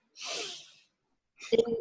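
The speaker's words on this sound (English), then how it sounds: "I'm going to sneeze first." A single sneeze, a breathy intake followed after a pause by a sharp burst, close and fairly loud, during a team training session.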